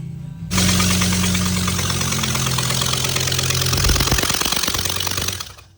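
A hydrolocked BMW M5 E60 V10 engine cranks over with a loud, rapid, rough churning rattle, starting abruptly and running steadily for several seconds before fading out, with no voices.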